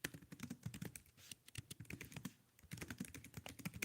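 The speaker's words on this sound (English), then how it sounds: "Right now I'm typing in that you have the power to regenerate." Fast keystrokes on a computer keyboard clatter in quick irregular bursts, close and fairly quiet, with a brief pause midway before the typing resumes.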